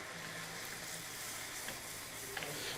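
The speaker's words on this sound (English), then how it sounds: "Making a roux, just some butter and flour." Butter and flour roux cooking in a pan for white chicken chili, a faint, even sizzle and hiss with an occasional soft stir, no talking.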